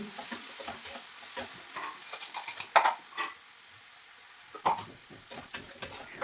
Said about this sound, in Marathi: आता तो लसणाचा कूट मी टाकते ह्याच्यामध्ये भाजीमध्ये